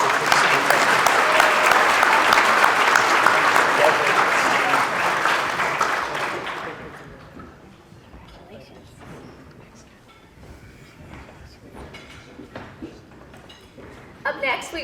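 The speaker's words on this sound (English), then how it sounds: "Once again, a round of applause for our officers" Loud sustained clapping from a crowd at a police awards ceremony, steady for about six seconds, then fading out as a voice begins speaking over the quieter room.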